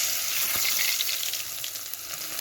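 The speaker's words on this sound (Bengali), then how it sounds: "তেলটা গরম হয়ে গেছে, ওর মধ্যে আমি গোটা গরম মশলা দিয়ে দিচ্ছি" Whole garam masala — cinnamon, cumin, white cumin, cloves and cardamom — sizzles steadily in hot oil, a close, continuous crackling hiss with a brief pop, no voices.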